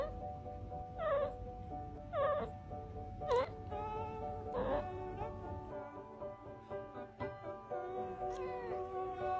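A cat meows several times in a short series of rising, wavering cries, close and fairly loud, over a steady background hum with some music-like tones.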